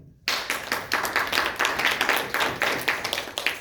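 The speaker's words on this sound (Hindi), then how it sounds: "ताली बजाओ भाई।" A group bursts into hand clapping after brief quiet, then keeps up a fairly even run of sharp, overlapping claps at moderate volume with no voices.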